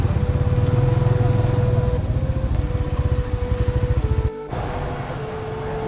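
A motorcycle engine idles nearby on a street beside a railway line, with a steady, rhythmic low thumping. The sound briefly cuts out near the end, then settles back into a softer idle.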